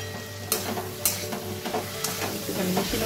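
Cumin, coriander and turmeric powders stirred in a pan over low flame for a Bengali fish curry, a soft steady sizzle broken by sharp spoon scrapes against the pan, close and without speech.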